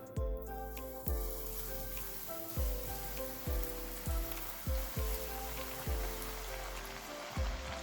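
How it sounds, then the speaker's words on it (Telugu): Pasta frying in hot oil crackles and sizzles loudly and steadily, with a series of regular soft thumps and bubbling bursts about every half second, close up and without voices. "ఇప్పుడు మనం పాస్తా వేసుకుని ఫ్రై చేసుకుందాం."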